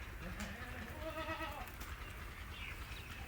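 A goat bleats on a farm, a faint wavering cry heard over steady hiss and background noise.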